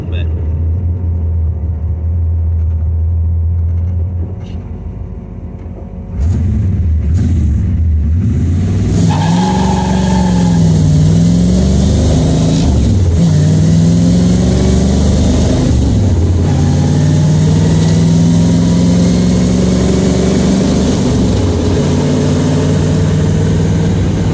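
A 1984 Camaro with a carbureted 383 stroker V8 that stumbles at full throttle idles roughly, then revs hard several times in loud, close sweeps that rise and fall over a steady engine rumble.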